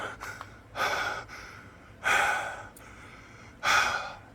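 Heavy breathing in a werewolf horror film scene comes as three loud, drawn-out breathy gasps spaced apart, each rising sharply and trailing off into quiet.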